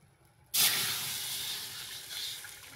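Water poured into a hot pot while cooking dhendo gives a sudden loud hiss that bursts in after a quiet start, then settles into a sustained steaming sizzle that fades slowly.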